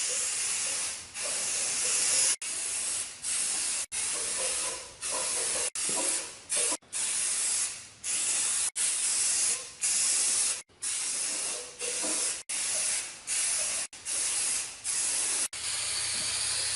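Repeated bursts of aerosol spray paint hiss, each lasting about a second, loud and close, with brief gaps between presses.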